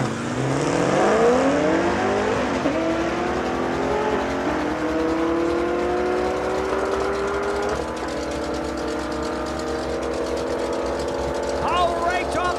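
At a drag strip, a 2010 Camaro and a 1977 Nova launch and accelerate, engines climbing in pitch through gear changes, loud and close before easing into a sustained high roar.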